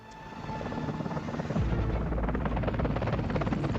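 A helicopter's rotor throbs in a steady rhythmic chop, swelling louder and nearer over a few seconds, with no voices.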